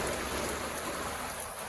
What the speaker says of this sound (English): it's just pouring rain all the way down the van